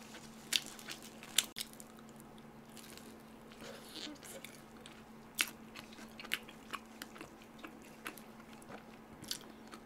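Someone bites into and chews a slice of Domino's Australian chicken ranch pizza close to the mic, with soft, quiet crunches and wet chewing over a faint steady hum.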